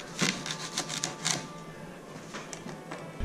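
Knife and fork cut the bad bits off a cactus pad, giving quick scraping and clicking cuts in a brisk uneven run that then slows to a few soft scrapes, close and quiet with no talking.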